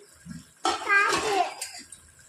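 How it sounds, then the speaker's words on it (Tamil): A short burst of water pouring into a vessel, splashing for about a second before trailing off, with faint background noise around it. "நாலு டம்ளர் தண்ணி ஊற்றியாச்சு"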